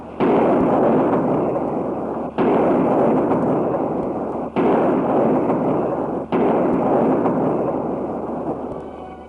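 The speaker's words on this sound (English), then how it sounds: "The King's Troop of the Royal Horse Artillery fires a 41-gun salute in London's Hyde Park in honour of Her Majesty's birthday." Four loud, deep booming blasts of a 41-gun royal birthday salute fired by the King's Troop, Royal Horse Artillery, in London's Hyde Park, each roaring report sustained and rolling before the next, with no talk over them.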